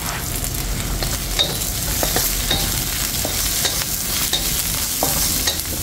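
Onion sautéing in a pan for coconut-milk tilapia, a continuous close sizzle and crackle with occasional scraping stirs, even and dense throughout, with no voices.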